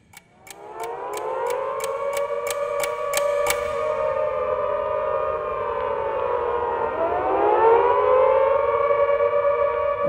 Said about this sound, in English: The sirens pervaded the whole atmosphere all over the city. You could hear the sirens echoing off walls.